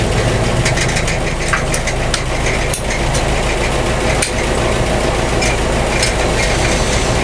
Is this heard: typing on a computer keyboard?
no